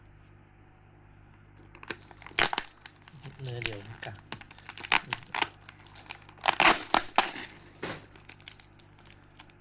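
Adhesive tape peeling and crinkling packaging as Odenya Rider Showa trading card packs are opened, a series of sharp crackly rips and rustles close to the mic, with someone talking over parts of it.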